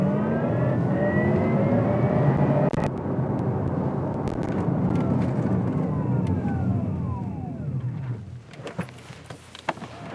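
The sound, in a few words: electric car accelerating 0 to 60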